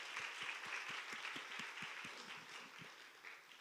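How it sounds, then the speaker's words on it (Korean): A church congregation claps together in a quiet, distant round of applause, with a steady, rhythmic beat of low thumps under a soft wash of hand claps that eases off toward the end. "주님께 박수로 영광 돌립니다"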